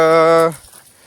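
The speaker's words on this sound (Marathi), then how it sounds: "तुम्ही बघू शकता ह्या शेळ्या आहेत" A single loud, close Kathiawadi goat bleat, a strong wavering cry lasting about half a second, then quiet handling noise.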